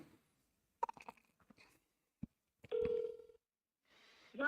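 Outgoing telephone call to a number on a buyers list, with faint dialing clicks and then short electronic ringback tones before the line connects, heard quietly with pauses and no talk.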